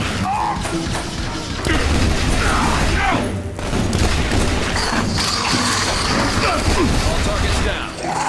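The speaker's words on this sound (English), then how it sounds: "Grenade out! Grenade! Get down!" A grenade explodes during a firefight in The Bureau, a heavy crash and boom amid dense gunfire and impacts, loud and sustained throughout, with shouting voices mixed in.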